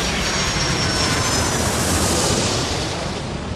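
Aircraft engines roar in an air traffic control game set at SFO, a dense continuous broadband rumble and whine, loud and steady throughout with no talking.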